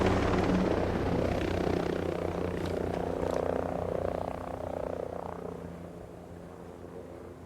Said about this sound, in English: chopper overhead. Be careful.